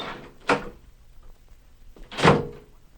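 Shop door opened early in the morning, heard as two distinct close thuds and rattles about two seconds apart in a quiet room, with no talking.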